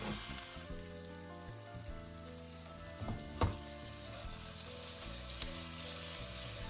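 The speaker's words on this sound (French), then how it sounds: "vous allez faire revenir le foie de veau environ 1 minute, 1 minute et demie par tranche, par côté" Slices of calf's liver frying in butter with shallots in a pan make a steady, gentle sizzle, with a brief clink of a utensil partway through and a faint musical backing underneath.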